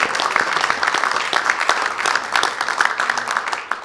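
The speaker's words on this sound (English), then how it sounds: "Let's give a round of applause for that." Crowded room in the House of Representatives breaks into steady, dense applause, many hands clapping continuously at close range without pause.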